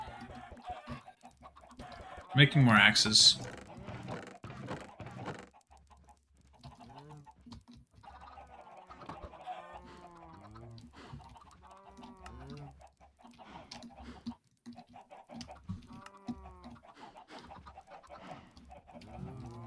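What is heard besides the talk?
chickens clucking in the video game Minecraft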